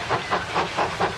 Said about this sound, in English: A steam locomotive will talk to you as you're going along.